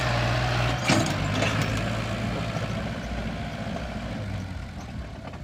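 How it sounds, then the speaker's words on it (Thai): A tractor backs away with its engine rumbling steadily and loud and close. It sounds like a low continuous drone with a brief clank early on. "ผมยิ่งเดินมาหารถไถก็ยิ่งจะถอยหนีครับ"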